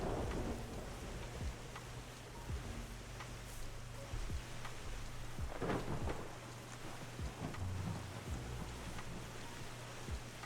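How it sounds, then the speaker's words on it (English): A thunderstorm in a video game about restoring a polluted wasteland: steady, dense rain hisses throughout while repeated low thunder cracks and rumbles roll in every second or two, with no voices. "now that the thunderstorm is beginning"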